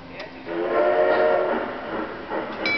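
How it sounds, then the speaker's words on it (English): Moving train in motion: a steady rumbling ride noise with tonal whining and horn-like harmonics, loud and close, plus brief squeaks near the end. "No standing, leaning on doors, while train is in motion."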